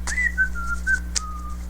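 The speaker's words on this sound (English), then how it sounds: "I'll entertain you with whistling, apparently" Someone whistles a short, wavering tune close by, with a few sliding notes over a low steady hum and a couple of soft clicks.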